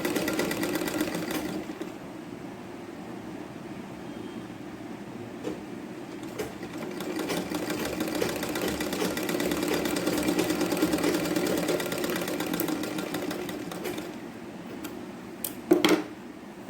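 A sewing machine stitches the sleeve of a bow tie blouse in a steady, rapid mechanical whir with rhythmic needle ticking, fairly close and moderate in volume, with a sharp clack near the end.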